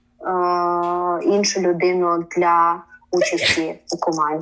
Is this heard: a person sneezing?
yes